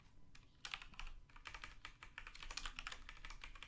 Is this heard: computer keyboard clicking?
yes